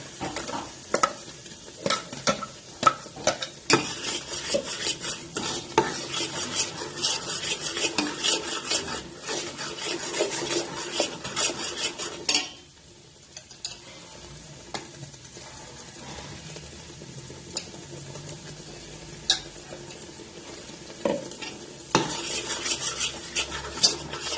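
Fish fry masala is stirred and roasted in a pan, with repeated scraping and clinking of a utensil against metal over a low sizzle. A brief near-silent pause comes midway before the stirring resumes.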